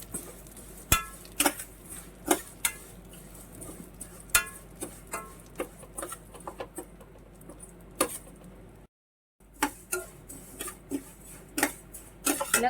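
Vermicelli is stirred in hot ghee in a pan for payasam, producing irregular metallic scrapes and taps of a spoon against the pan along with a soft sizzle underneath, with a brief silent gap near the end.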